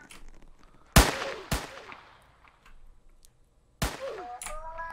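Gunshots in the Roblox Squid Game, sharp loud cracks with echoing tails: two close together, then one more after a pause. Faint game sounds fill the quiet between the shots.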